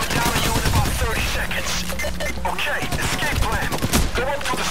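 Gunfire from the video game Payday The Heist, dense bursts of shots and sharp impacts layered over game noise and music, continuous and loud, with players talking over it.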